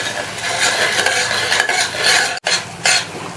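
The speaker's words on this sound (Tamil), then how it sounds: "இப்ப இந்த மசாலாவுக்கு மட்டும் தேவையான அளவு உப்பு சேர்த்து ஒரு தடவை நல்லா மிக்ஸ் பண்ணி விட்டுருங்க." Masala powder and salt being stirred into baby potato roast in a pan, a steady scraping and stirring under a faint sizzle, with a short pause before the stirring resumes.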